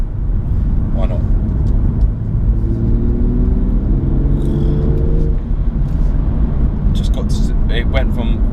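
A BMW M240i Coupé accelerates hard in Sport Plus mode on an open road, its engine a loud, steady low roar that rises in pitch over several seconds, with a voice speaking over it.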